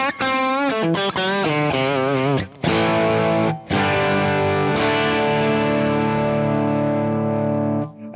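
An Iconic Guitars Vintage 65JM electric guitar played through an overdrive pedal, with gritty, sustained distorted chords and notes ringing out loud and alone, separated by brief pauses.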